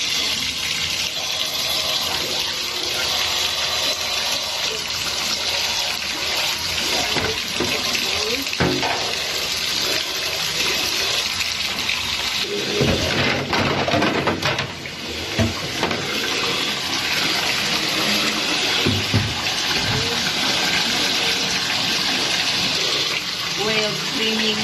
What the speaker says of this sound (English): We have a lot of water brought in our tub.